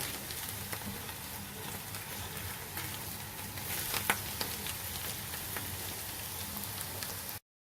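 Eggs mixed with flour and spices sizzle steadily in a hot pan for an Egyptian omelette alongside fried greens, a close, even hiss and crackle that stays constant before cutting off abruptly.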